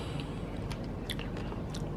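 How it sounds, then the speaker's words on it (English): Soft, close-up biting and chewing of crispy oven-fried ranch chicken thigh, with a few sharp crunchy crackles, fairly quiet, no talking. "Do you hear that crunch? It's so crunchy."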